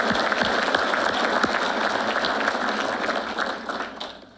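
Sustained applause from a crowd at a police academy graduation ceremony for a Winston-Salem Police Department BLET class, a dense steady wash of clapping that holds and then starts to taper off at the end.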